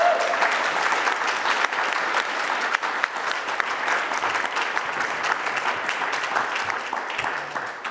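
Sustained applause from a conference audience in a hall, dense and even clapping that fades slightly toward the end, with a few sharp individual claps.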